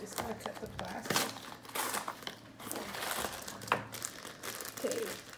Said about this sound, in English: You just gotta cut the plastic.